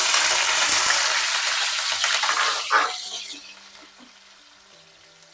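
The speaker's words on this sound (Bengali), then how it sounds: "একদম রেড ব্রাউন করে এরকম আলুগুলোকে ভেজে তুলে নেব আমি।" Potatoes fry in hot oil, a loud close sizzle with bubbling crackle that fades away after a few seconds as the heat dies down, leaving near quiet with faint clinks.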